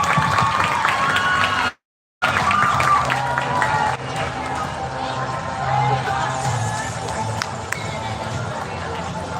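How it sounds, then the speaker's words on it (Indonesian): A crowd applauds winners of a hadroh music contest at a school event, a sustained dense clapping wash with cheering, briefly cut by a short silent gap, with a voice faintly talking over it. "sekali lagi beri tepuk tangan lagi untuk para pemenang lomba hadro."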